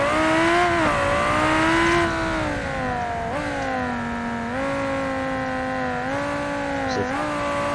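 A Civetta Scintilla sports car in BeamNG.drive holds revs on launch control, then launches and climbs through several gear changes, its engine whine rising and dropping in steady steps, loud and continuous.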